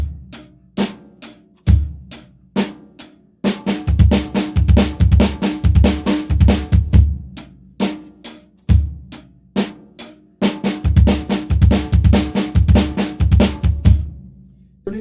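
A drum kit plays a punchy groove with thudding bass drum kicks tucked in as quick doubled 32nd-note strokes alongside crisp snare and cymbal hits, repeating in a steady pattern for about fifteen seconds with brief pauses between phrases.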